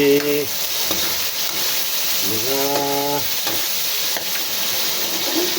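Pork fat sautéing in a pan gives a steady close sizzle with stirring scrapes, while a cow lows in the background a couple of times.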